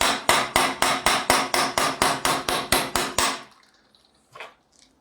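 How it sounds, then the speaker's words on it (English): A hammer strikes a metal gear on an axle held in a vise, about fourteen rapid, evenly spaced loud blows, then a pause and one last softer knock. "just take a hammer and just punch it off"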